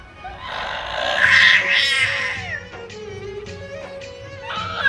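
A small child lets out a loud strained roaring cry imitating a dinosaur, followed by shorter higher squeals and yelps, all close to the microphone.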